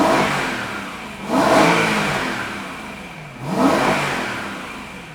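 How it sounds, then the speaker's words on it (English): A BMW E92 M3 S65 V8 engine with 103k miles, due for rebuild, revs hard twice, each time surging up then falling back toward idle, loud and close. "I can rev the snot out of it because I'm about to rebuild this engine."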